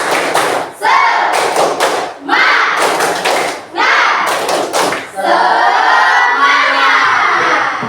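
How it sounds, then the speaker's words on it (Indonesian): A classroom of children performs a rhythmic clapping cheer, loud bursts of claps and shouted chanting in repeated phrases, ending in sustained group voices, recorded close in the room. "Tepuk semangat."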